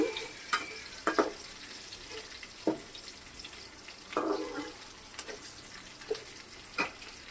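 Curry leaves fry in a pan while a ladle stirs them, a quiet close sizzle broken by scattered sharp scrapes and knocks of the ladle against the metal, no voices.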